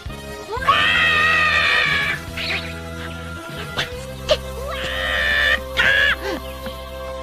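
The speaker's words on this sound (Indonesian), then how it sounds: "Gohan pun segera berteriak dan berlari dari dalam gua itu karena dia yang sangat ketakutan." A young boy in a Dragon Ball Z anime scene screams in fright at a large dinosaur in a cave: two long, loud, strained shrieks separated by a short gap, over a steady low musical drone.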